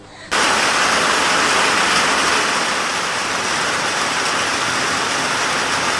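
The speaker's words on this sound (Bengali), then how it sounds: "গতকাল প্রচণ্ড বর্ষা হয়েছে সেটা আগে আপনাদের দেখাই" Heavy rain pours down in a dense, steady hiss that starts abruptly after a short quiet moment and stays loud and even throughout, with no voices.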